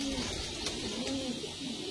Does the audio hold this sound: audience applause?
no